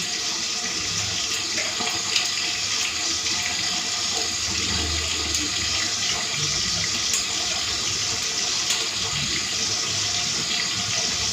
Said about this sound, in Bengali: এই যে ডিমটা ছাড়িয়ে ভালো করে ধুয়ে নিয়েছি